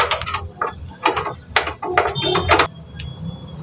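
Metallic clicks and scraping as an LPG hose fitting is tightened onto a double-burner gas stove, a series of short close ratcheting taps of uneven rhythm with faint background noise.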